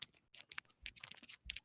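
Rapid, quiet clicking of keys on a computer keyboard, irregular bursts of typing with short pauses, close to the microphone during a live panel.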